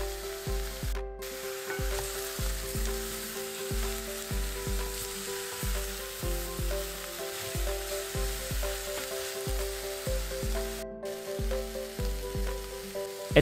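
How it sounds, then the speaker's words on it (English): Onions, celery, ginger, carrots and garlic fry in hot oil in a big pot, a continuous bright sizzle with rhythmic stirring scrapes throughout, close and steady with no voices. "Heat oil in a big pot, add onions, celery, ginger, carrots, puree, garlic and stir it for 10 minutes."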